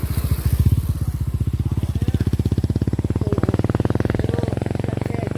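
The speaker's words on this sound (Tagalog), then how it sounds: "Ay, may dadaan pre, may motor" A motorcycle rides past on a hiking trail in San Jose del Monte, its engine a loud, rapid, steady putter close by throughout.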